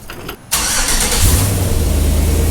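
A Chevy truck fitted with a new H-pipe exhaust cranks briefly, then fires up and settles into a loud, steady, rumbling idle close by.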